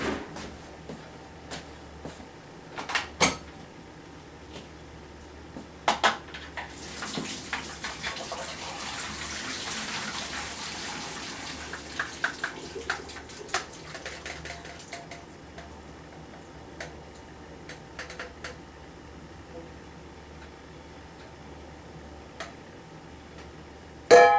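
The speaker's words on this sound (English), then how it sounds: "And let's drain the broccoli." Cooked broccoli drained in a kitchen: a soft rush of water pouring out swells in the middle, framed by scattered clicks and knocks of pot and utensils, with no talking.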